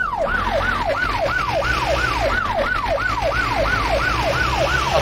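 A police car siren in the video game My Summer Car wails loud and close, rising and falling in a fast, regular cycle about twice a second. An engine rumbles low underneath.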